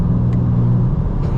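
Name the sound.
2025 BMW M4 CS engine accelerating through gears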